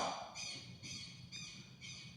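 Small birds calling outdoors, four evenly spaced bright chirping bursts repeating at a steady rhythm, moderately close and clear against a quiet background.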